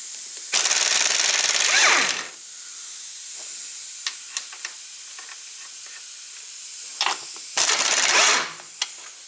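Top strut nuts come off a 2017 Jeep Patriot under a power tool, which fires in two loud, hissing bursts a few seconds apart, with small metallic clicks and taps in between.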